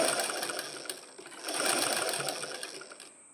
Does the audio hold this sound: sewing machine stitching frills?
yes